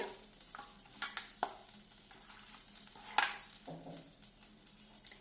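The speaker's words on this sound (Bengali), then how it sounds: "এবার মাংসটা আমি এই বাটারের মধ্যে দিয়ে প্রথমে একটু ভাজা ভাজা করে নামিয়ে নেব।" Marinated chicken pieces sizzle and fry in melted butter in a home kitchen pan, with soft stirring scrapes and a few sharper clinks of a utensil against the pan, close and fairly quiet, no talking.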